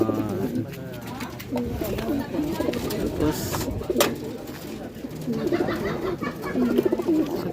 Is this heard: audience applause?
no